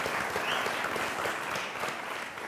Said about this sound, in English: I got applause, whistles,